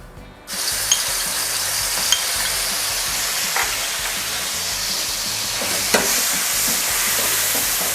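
Thai curry paste stir-fried over high heat in hot vegetable oil for a mussel stir-fry, a steady loud sizzle with occasional spatula scrapes and clinks against the pan, continuing without pause.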